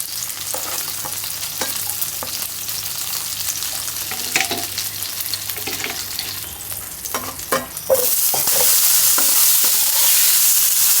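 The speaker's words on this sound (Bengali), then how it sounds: "আলুগুলো একটু এই যে মাছের হলুদ লবণের সাথে মেখে ভেজে নিব" Potato pieces coated with turmeric and salt frying in hot oil, a steady crackling sizzle with occasional stirring clatter, swelling into a louder, brighter hiss near the end as more is added to the pan.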